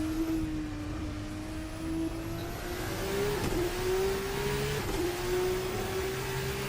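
Onboard engine of a Formula Hybrid race car in a sim racing game, revving steadily and rising slowly in pitch, with brief stutters from gear shifts. The sound is close and constant, and no one speaks.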